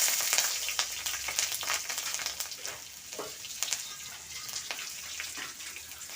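Asafoetida and green chili hit hot oil for a beans curry, giving a bright, crackly sizzle with quick spits and pops that is loudest at the start and settles slightly.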